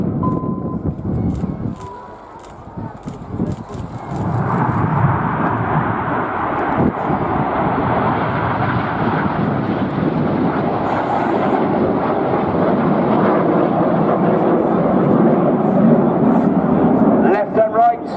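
Red Arrows jets roar overhead during a full air display at RIAT 2016 airfield, a loud sustained engine rumble building and holding, with a commentator talking over it.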